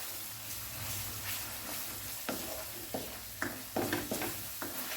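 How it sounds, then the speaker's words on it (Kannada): Masala paste for a Punjabi chicken gravy fries and sizzles in a pan, a steady hiss with intermittent scraping stirs growing more frequent toward the end, close and clear with no talking. "ಇದನ್ನು ನಾನೀಗ 2 ಮಿನಿಟ್ಸ್ ನಾನು ಫ್ರೈ ಮಾಡ್ತೇನೆ"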